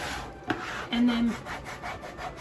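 Rubbing strokes on a wooden farmhouse sign as a transfer is pressed on, a soft repeated scraping with a brief knock near the start, close and quiet with no talking.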